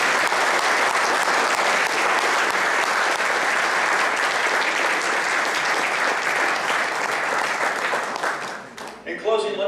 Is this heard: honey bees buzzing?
no